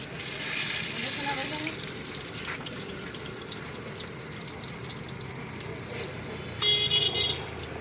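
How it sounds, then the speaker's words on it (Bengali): Eggplant fritters (beguni) frying in hot oil at an outdoor iftar food stall near a railway station, a moderate continuous sizzle and crackle with a brighter burst near the end, amid faint background murmur. "এখানে বেগুনিকে গোসল করানো হচ্ছে গরম তেলে"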